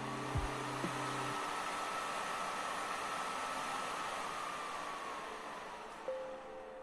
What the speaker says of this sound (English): It's like real loud when the fan kicks in, cooling that LCD, so just listen to this.